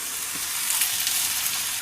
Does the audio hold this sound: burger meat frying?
yes